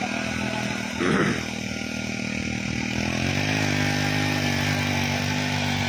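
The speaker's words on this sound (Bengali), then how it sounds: "এই দেখেন কীরকম পরিমাণে এই যে ছোট্ট একটা মেশিন কাজ করে" A small 63cc mini tiller engine runs steadily and close by in a field, its continuous buzzing drone shifting slightly lower partway through, with a brief burst of louder noise early on and no speech.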